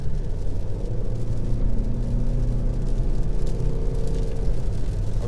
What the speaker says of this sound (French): le moteur, le 4 cylindres, on l'entend un petit peu